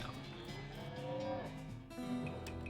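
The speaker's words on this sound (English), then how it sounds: "Defeat the nasty cow skull floating in a cloud of flame." A flaming cow skull enemy in the video game West of Loathing lets out a drawn-out, wavering moo that rises and falls, followed by a second shorter bellow, clear and fairly close over faint game background.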